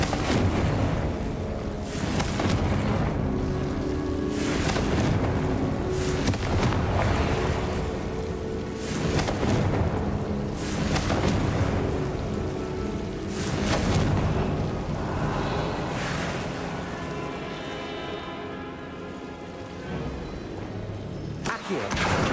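Confringo blasting spells in Hogwarts Legacy set off a steady run of loud, booming explosions and crackling bursts, repeating every second or two over a dense wash of game sound.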